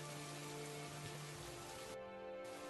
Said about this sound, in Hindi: इस तेज बारिश की बूंदें शरीर पर सुई चुभना सा लग रहा था।